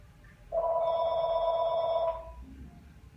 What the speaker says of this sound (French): Et le téléphone qui sonne.